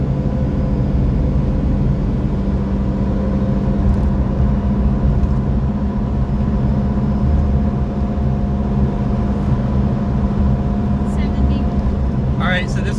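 A Mitsubishi Pajero Mini kei car cruising at about 70 mph on an interstate, its engine and road drone a steady, loud, dense roar heard from inside the cabin, with a voice talking over it throughout.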